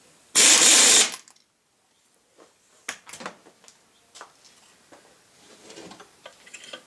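An impact wrench fastens a nut on a Spicer transfer case, making a single loud, close burst of rattling hammering that lasts about a second, followed by scattered clinks and handling of parts.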